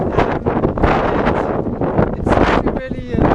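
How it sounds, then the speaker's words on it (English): Strong wind buffets the microphone in continuous roaring gusts on a sailboat, with creaking and rustling of the boat underneath and a voice speaking briefly. "It's really windy out here."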